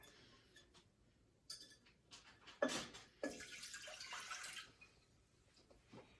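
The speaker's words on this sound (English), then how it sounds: "So I'm gonna first pour the water." Water poured from a container into a pan to start gravy for a Hawaiian loco moco, a faint close splash and trickle lasting a couple of seconds amid quiet kitchen handling noises.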